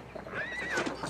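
A horse gives a brief, high whinny on a 1960s Western ranch set, faint against a noisy background with a few soft hoof sounds.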